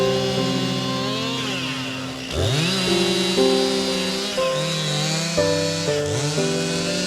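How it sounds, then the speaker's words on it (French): Chainsaws at work reopening overgrown dry grassland on a former mining site, their engines whining loud and close as the pitch repeatedly rises and dips with each rev, with no voices. "Des tronçonneuses et pelles mécaniques sont utilisées pour réouvrir les pelouses sèches embroussaillées au fil du temps."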